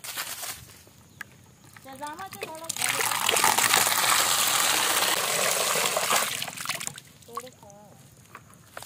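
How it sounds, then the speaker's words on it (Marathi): Water gushes and splashes loudly for several seconds while plants are watered outdoors at a village home, with a voice and other talk heard before and after the pour. "चलतं पाणी घालू झाडांका पाणी लाव."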